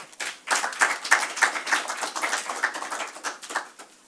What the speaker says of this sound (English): give another round of applause to House Chair for that input